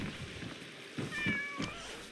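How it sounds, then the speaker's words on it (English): A cat meows in the video game Where Winds Meet, a few short mewing calls over a steady ambient game background, moderately close and fairly quiet. "There are many cats in this world,"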